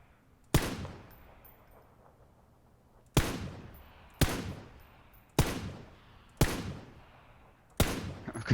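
Six sharp gunshots ring out in PUBG, spaced irregularly with short decaying tails, loud and close with no talking over them.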